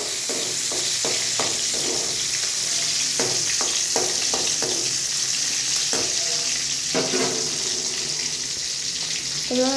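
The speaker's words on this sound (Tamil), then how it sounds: "எண்ணெய் சூடானதும் கொஞ்சோண்டு பூண்டு, பச்சை மிளகாய் போட்டுட்டு நல்லா மிக்ஸ் பண்ணிவிட்டு" Garlic and green chilies sizzle in hot oil in a pan, with a steady frying hiss broken by repeated scrapes and clinks of a stirring spoon; no voices.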